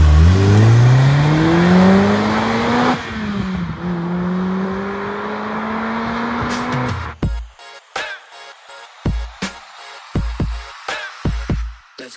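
A Honda DC5 Integra Type R engine revs up through rising gears, loud and close, then eases off. Sharp intermittent bursts and clatter follow toward the end.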